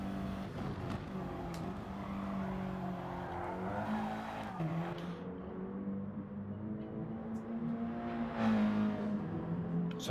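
Onboard race car in an Audi TT racing video game lapping a circuit, a steady droning engine note rising and falling through gear changes with occasional tire squeal, continuous and fairly loud throughout.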